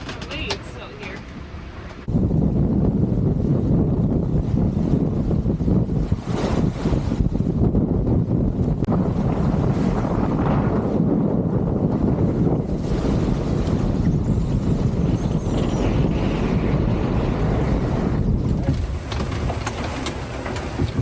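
Strong wind buffets the microphone aboard a sailing boat off the Canary Islands near Gran Canaria, with ocean waves rushing beneath in a loud, continuous roar after a quieter opening.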